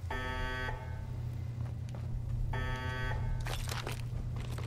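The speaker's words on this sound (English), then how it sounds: "Please turn off the alarm." An alarm in Fallout 4 sounds in two long harsh buzzing bursts separated by a pause, with footsteps and game noise over a constant low hum.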